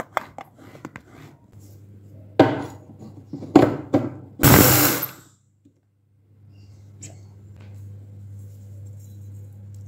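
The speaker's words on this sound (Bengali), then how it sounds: "আমি অল্প করে গোবিন্দভোগ চাল এটা গুঁড়ো করে নিচ্ছি" An electric grinder pulses a small bowl of Gobindobhog rice into powder in short, loud whirring bursts, separated by clicks and pauses, then settles into a low hum in a home kitchen.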